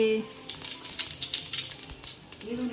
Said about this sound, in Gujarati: જો મમ્મી હવે ભાજી વઘારે છે.